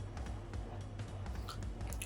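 Close-up chewing of a sour strawberry during a children's senses activity: soft, wet crunching and mashing bites repeat steadily for about two seconds with no talk.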